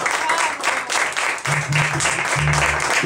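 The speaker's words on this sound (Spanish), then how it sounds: "¡Fuerte, mis aplausos!" At a birthday celebration with mariachis, a crowd claps loudly and steadily, with a voice briefly heard over the applause.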